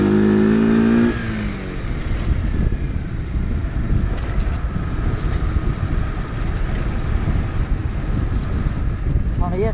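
A Mash 50cc four-stroke motorcycle engine revs briefly with a rising tone, then settles into a steady riding drone mostly buried under heavy wind noise.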